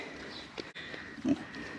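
Pigs on a homestead grunt and oink in short bursts from close by, with one louder grunt near the end over a quiet outdoor background.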